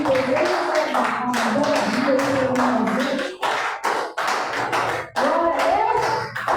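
A church congregation claps rhythmically in praise during a service, with sharp repeated hand strikes beneath a woman preacher's voice speaking over them, loud and close.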